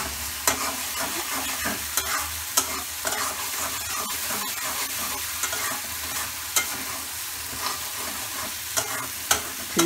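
Spice paste for a potol and egg curry sizzles as it is stir-fried in a pan, a continuous crackling fry punctuated by frequent sharp scrapes and taps of the spatula.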